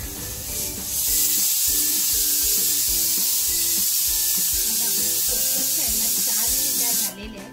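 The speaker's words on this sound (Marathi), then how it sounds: "हे सुके मसाले मी भाजून घेते" Whole cardamom, cinnamon, coriander seeds, cloves and black pepper dry-roasting in a pan, giving a loud continuous sizzling hiss with rhythmic scraping and stirring, under someone talking.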